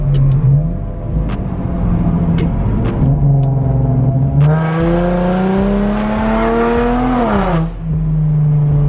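A loud car engine fitted with test pipes idles with a raspy rumble, then revs up hard to a high, sustained roar and drops back down, very close.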